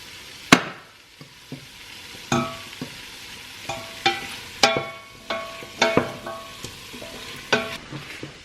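Diced chicken and ham frying in a pan, with a steady low sizzle punctuated by repeated sharp clinks and scrapes of stirring, close and moderately loud, no talking.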